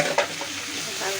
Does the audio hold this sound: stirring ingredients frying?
yes